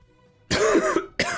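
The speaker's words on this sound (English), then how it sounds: "I just coughed" Two sharp, close coughs break a near-silent background, the first longer and rasping, the second short after a brief pause.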